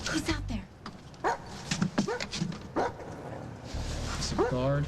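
A mean-looking guard dog barks and yips repeatedly in sharp bursts, with whimpering sounds, mixed with people talking in a tense night scene at a rail yard of boxcars.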